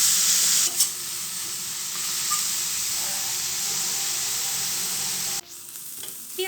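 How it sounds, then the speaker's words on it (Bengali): Chopped onions frying in oil in a pan for prawn malai curry, a steady loud sizzle and hiss running throughout, with a brief clatter near the start and the sizzle dropping sharply near the end. "পেঁয়াজটাকে হালকা লাল করে ভেজে নেব।"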